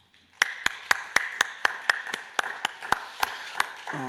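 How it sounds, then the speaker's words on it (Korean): A small congregation at a dawn church service claps in a steady rhythm, about a dozen crisp, evenly spaced claps in a quiet room, ending as a voice begins to speak. "박수 한번 보내십시다"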